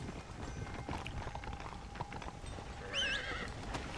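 Horse in the video game Red Dead Redemption Undead Nightmare, hooves clip-clopping steadily at a gallop with a short high neigh midway, fairly quiet against game ambience.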